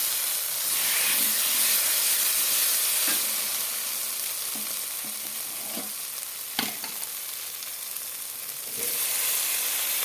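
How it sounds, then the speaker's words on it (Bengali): Tomatoes frying in a spiced masala for katla fish curry, with a loud continuous sizzle and hiss throughout, broken by a few faint taps and scrapes of a stirring utensil, close up with no talk. "টমেটোগুলো দিয়ে দিলাম"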